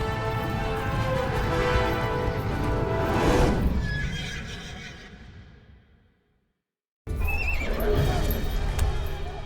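Warhorse in an Age of Empires IV medieval cutscene gives a loud, close, drawn-out whinny over clopping hooves, fading to brief silence before hoof and movement sounds resume.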